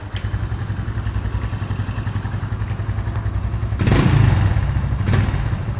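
Honda Pop 110i motorcycle with a modified exhaust idling close by, a steady rapid putter with a brief rev swelling louder partway through, no speech.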